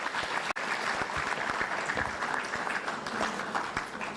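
Conference audience applauding the Minister at a renewable energy conference and expo, steady mid-level clapping with a few distinct sharper claps, briefly interrupted by a momentary dropout.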